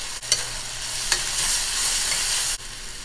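Garlic sizzles and fries in a hot pan while being stirred, a steady loud hiss broken by a couple of brief stirring scrapes, with no talking.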